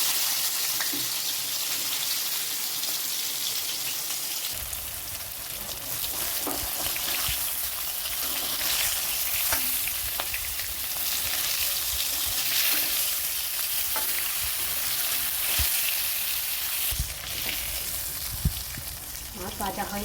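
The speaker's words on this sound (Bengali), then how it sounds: "এখন মাছ ভেজে নেব।" Hilsa fish pieces fry in hot oil in a pan, a steady dense sizzle that jumps louder a few seconds in and crackles continuously, with occasional spatters and a light scrape near the end.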